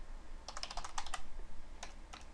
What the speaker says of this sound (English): As you can see, we're typing in Notepad